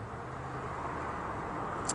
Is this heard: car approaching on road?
yes